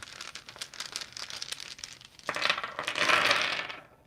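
Tarot decks are split and shuffled, making a rapid papery riffling that swells into a louder, denser flutter of cards near the end, close and without speech.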